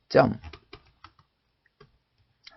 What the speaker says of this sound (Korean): 대문자로 한영키 눌러서 A